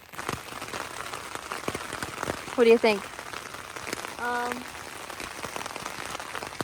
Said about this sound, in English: we're just going to wait and see how long the rain lasts